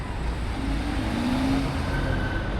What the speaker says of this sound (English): And that's an X6M right there, from Italy.